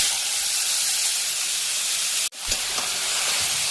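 Ash gourd pieces drop into hot oil with jute leaves and dried chillies, giving a loud, steady broadband sizzle and hiss, broken by a brief dip and a soft clatter as the pieces go in.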